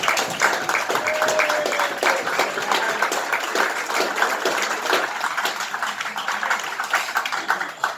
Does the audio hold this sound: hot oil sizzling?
no